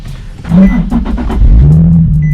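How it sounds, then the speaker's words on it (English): A Nissan 370Z engine with manual transmission cranks and turns over, settling into a steady low idle rumble, close and fairly loud. "Make sure you're in neutral, then start the car."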